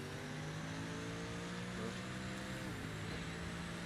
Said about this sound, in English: Drifting LMP car.